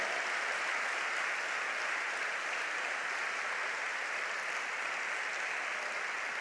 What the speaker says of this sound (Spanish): Ahora sí le damos un gran aplauso, dándole la gloria